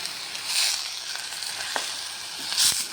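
Leafy greens (ponnaganti kura) frying and simmering in oil in a covered pan make a steady soft sizzle with faint bubbling crackles and a few brief pops, close and fairly quiet with no talk.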